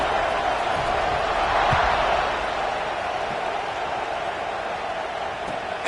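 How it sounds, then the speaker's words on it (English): A football stadium crowd at the Penn State vs Oregon game buzzes steadily after a score, a broad continuous roar that swells briefly and then holds at a constant level. "this crowd is buzzing after that last score"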